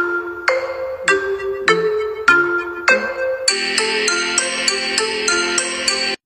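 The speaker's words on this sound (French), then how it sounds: "Je note les sonneries du collège partie 3" A school bell ringtone plays alone, starting with a run of separate bright electronic chime notes and then switching to a denser, repeating melodic pattern that lasts until it cuts off abruptly.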